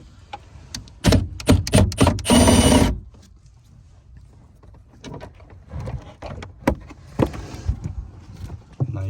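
Metal clicks and rattles from a wrench backing out a 10mm bolt that holds a bracket near the battery on a BMW E90, with a burst of loose ratcheting and scattered taps, close and fairly loud with no talk.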